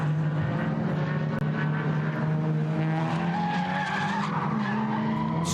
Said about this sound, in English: Squeal of tyres.